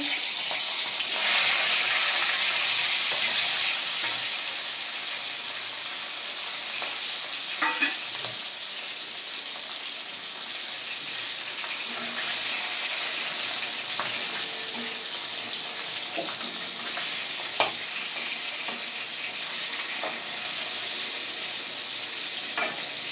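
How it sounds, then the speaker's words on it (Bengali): A salted, turmeric-rubbed hilsa fish head fries in hot oil in a kadai, giving a loud, constant close-up sizzle with occasional sharper pops and spits over its whole length. "মাছের মাথাটা ভাজে রেখে দিচ্ছি"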